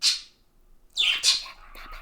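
A pet bird lets out sharp, shrill squawks nearby, one alone and then a couple more in quick succession.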